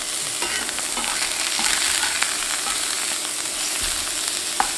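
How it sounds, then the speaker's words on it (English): Swordfish steaks searing in a hot pan, giving a steady close sizzle and crackle with occasional small pops, no talking. "Let's go ahead and sear these off on both sides."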